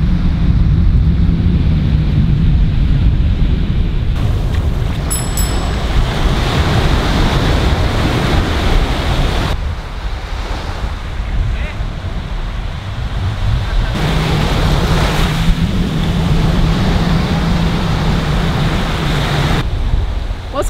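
Ocean surf rolls steadily onto the beach at Secrets Maroma resort near Playa del Carmen, a continuous loud wash of breaking waves with gusty wind buffeting the microphone and periodic swells rising and falling.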